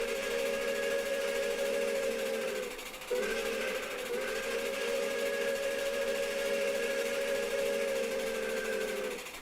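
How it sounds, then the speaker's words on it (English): Steam locomotive 765's older whistle blows a sustained multi-tone chime, dropping out briefly early on before resuming and holding steadily for several seconds, loud and continuous. "I'll go ahead and play the whistle again,"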